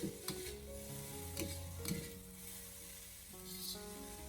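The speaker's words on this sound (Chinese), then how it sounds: "我们开中火给它不停的翻炒一下，先把萝卜丝炒软，给它炒出香味。" Shredded white radish stir-fried over medium heat in a pan, a steady close sizzle with repeated scraping stirs and a few light clinks of the spatula, no voices.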